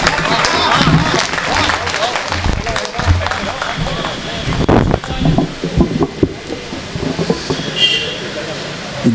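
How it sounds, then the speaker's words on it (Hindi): An audience at a Hindi comedy poetry event applauds a poet, bursts of clapping and crowd noise rising and falling under and between a host's speech. "जोरदार ताली से आदरणीय अशोक सुंदरानी जी।"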